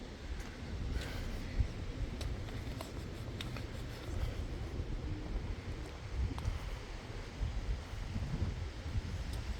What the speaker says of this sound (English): Hope the wind doesn't sound too loud on here.